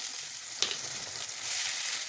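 Ground tomato paste added to hot oil with lightly fried onions sizzles in a steady, close hiss, with a single clatter partway through and the frying swelling louder toward the end.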